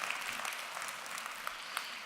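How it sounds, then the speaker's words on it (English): A room of listeners giving a round of applause at a company gathering, a dense, even wash of clapping at mid distance with a couple of sharper individual claps standing out. "let's give a round of applause to these stories that have been shared this morning"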